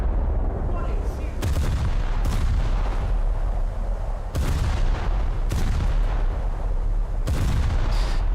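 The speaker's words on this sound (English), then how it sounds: "Too short on my 12-inch salvo again." 12-inch naval gun salvos firing in a naval combat video game, several deep booming shots at irregular intervals over a rumbling background, loud and close.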